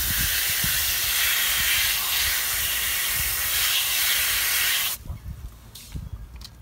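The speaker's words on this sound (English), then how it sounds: "And then rinse off the brush." A garden hose or sprayer rinses water through a wheel cleaning brush in a steady loud hiss for about five seconds, then cuts off, leaving a few faint drips and small knocks.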